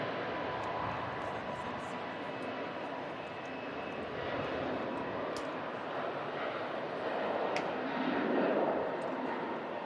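An Airbus A321neo airliner on its takeoff roll gives a steady broadband engine roar that swells slightly toward the end, heard from a distance with faint chatter in the background.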